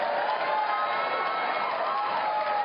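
A crowd cheers and applauds for Rubio in a steady, dense roar of voices and clapping that holds at an even level for the whole stretch, with no single voice standing out.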